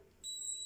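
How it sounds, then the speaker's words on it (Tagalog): A spa massage device's timer beeps once and holds a steady, clear electronic tone partway through, fairly quiet and alone. "Pag nag-beep siya, tapos na."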